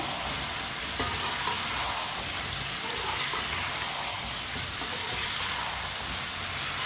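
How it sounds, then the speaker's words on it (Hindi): Large potato pieces being stirred in a hot pan for aloo pulao: a continuous sizzle and crackle with occasional scraping turns, steady and close, no speech. "आलू डाल लेंगे। आलूओं को मिक्स कर लेंगे।"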